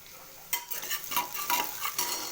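Sautéed onions for a vegetable biryani being stirred in a pan, a low sizzle broken by several quick scraping strokes of the spoon, close and fairly loud.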